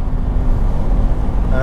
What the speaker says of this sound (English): Now in the Audi RS7